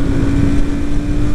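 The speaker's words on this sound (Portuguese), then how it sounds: "Ó, terceira marcha, retomada aqui de terceira." Royal Enfield Super Meteor 650 motorcycle pulling hard in third gear, its engine holding a steady loud drone with a strong low hum, heavy wind buffeting the microphone throughout.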